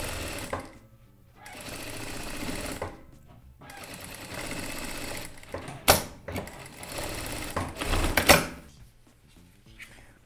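A sewing machine runs in repeated bursts, stitching a seam to hold fabric for a child's shirt, with short pauses between runs and a couple of sharper knocks near the end.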